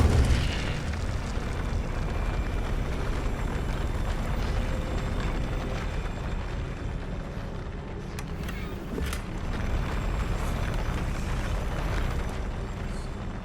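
Incendio fire spell in the video game Hogwarts Legacy, a loud, continuous roaring rush of flame that holds steady throughout with a few sharper crackles, and no voices.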